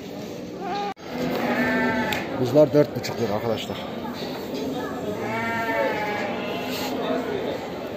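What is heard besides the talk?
lambs bleating at livestock market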